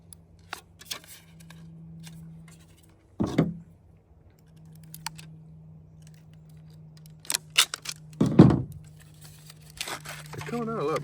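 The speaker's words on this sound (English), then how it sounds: "We'll take a scissors and snip this off." Scissors cutting off a piece of a homemade trotline weight mold during a fishing-gear project, heard as two short, loud crunching snips a few seconds apart, with softer handling clicks and a low steady hum between them.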